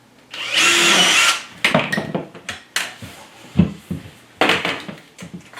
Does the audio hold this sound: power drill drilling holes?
yes